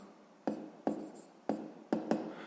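Pen or chalk strokes write out a fifth-grade math exercise, five short distinct scratches in uneven rhythm, close and clear with no talk.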